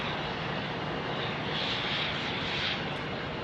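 A Boeing 737 arriving from Denver at Phoenix Sky Harbor Airport, its engines making a steady, broad roar that holds loud and constant throughout.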